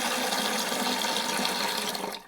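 Water pours steadily into a bowl of green peas being rinsed in a kitchen, a continuous loud splashing rush for about two seconds that tapers off at the end.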